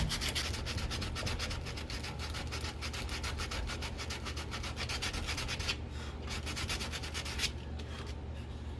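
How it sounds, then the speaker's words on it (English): Sandpaper rubbed over a wooden bolt-action rifle stock, a steady close scratching with rapid back-and-forth strokes running throughout, no talking. "Then you can go up with your grain of sandpaper and get everything smoothed back down."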